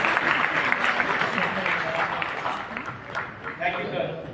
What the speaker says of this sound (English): We request the crowd to give a big round of applause to all of them.